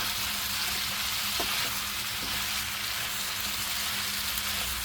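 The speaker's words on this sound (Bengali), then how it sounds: "বেশি করে একটু ভালো করে কষিয়ে নিতে হবে, তাহলে আর গন্ধ লাগবে না।" Tripe, liver and fat with spices fry in a pan with a dense, continuous sizzle, loud and close, with a few faint knocks of stirring underneath and no voices.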